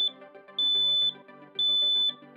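A household smoke detector sounds a loud, piercing high-pitched alarm, with repeated sustained beeps about half a second long separated by short gaps, heard alone.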